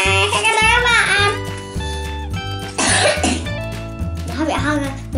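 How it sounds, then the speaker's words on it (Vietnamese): A young child coughs several times in short bursts, close and loud, at home during a frog toy play session, with an adult voice and toy sounds mixed in. "Nó bị ho rồi."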